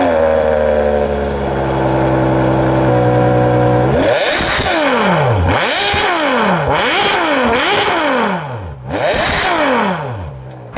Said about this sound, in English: using the Enzo engine in a supercar means it's gonna sound pretty good, and this car does. Take a listen.